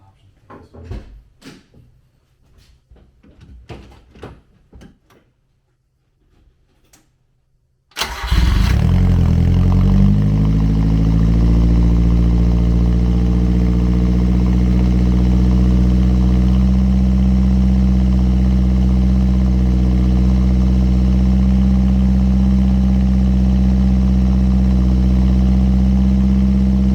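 A 1994 Subaru Sambar kei truck sits quiet through a few soft knocks and rattles, then its engine cranks and catches, settling into a loud, steady idle that drones on unchanged.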